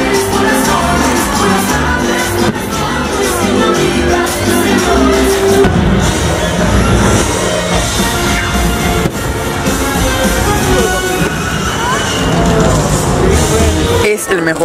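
Fireworks show at Disneyland: loud, dense outdoor noise with scattered bangs and a steady crowd roar, cheers and shouts mixed throughout, ending in a sharp burst.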